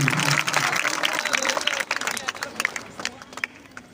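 Applause at a college Independence Day function in Machhlishahr welcoming the chief guest, a crowd clapping loudly at first, then thinning into scattered claps toward the end.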